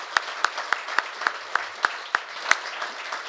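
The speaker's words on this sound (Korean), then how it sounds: "여러분들 큰 박수 한번 보내주시기 바랍니다" An audience at the Korea University labor-management-government forum claps in an even, regular rhythm, sharp beats spaced evenly apart over a low background hum.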